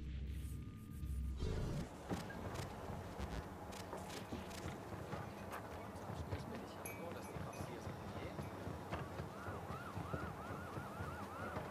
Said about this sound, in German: Rettungswagen.